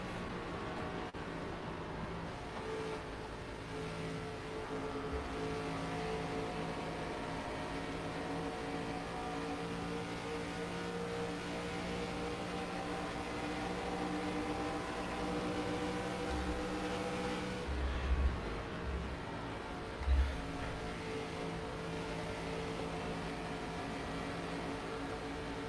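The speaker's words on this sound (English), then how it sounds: "You heard him have to lift out of the gas there on corner exit, coming off the banking." Onboard engine of a Legends-style race car lapping the banked oval at Las Vegas Motor Speedway in a sim racing game, a steady droning roar throughout with a brief dip and a couple of bumps near the end.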